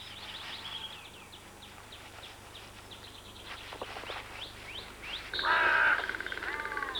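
Ravens nesting in bare branches of a British woodland give hoarse croaking calls amid other birdsong, mostly faint and distant, with one louder, closer raucous call near the end and no voices.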